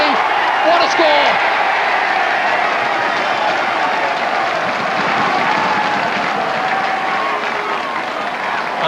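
A home rugby crowd at a 1990 Wasps versus Gloucester match applauds and cheers a Wasps try, dense sustained applause rolling steadily beneath a commentator's voice.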